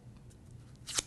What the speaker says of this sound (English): running your scissors along. So just scissor curl